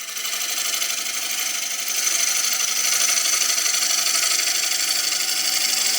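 Wood lathe spinning a blank for a traditional German ring, a steady broadband whirring and rasping hiss of the tool cutting the turning wood, continuous and close, growing slightly louder partway through, with no talk.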